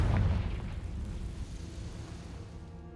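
A Confringo fire-spell blast in the Hogwarts Legacy video game, a deep booming explosion that bursts at once and then fades into a long low rumbling tail, heard alone.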